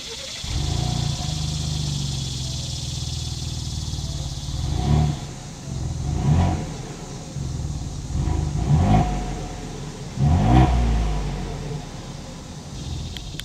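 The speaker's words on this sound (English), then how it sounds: "As always, here is that exhaust clip." A 2021 Ford Bronco Wildtrak idles steadily through its exhaust, then is revved four times in quick rises and falls, loud and close, with no talking.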